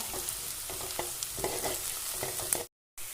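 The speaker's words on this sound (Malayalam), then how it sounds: "സവോള പെട്ടെന്ന് മൂത്ത് കിട്ടാൻ വേണ്ടി ഒരു ട്രിക്കുണ്ട് കുറച്ച് ഉപ്പിട്ടിട്ട് വഴറ്റിയെടുക്കുകയാണ്" Sliced onions sauté with a pinch of salt in a hot pan for a green gram thoran, with a steady close sizzle and frying crackle broken by soft stirring scrapes, then a brief cut to silence.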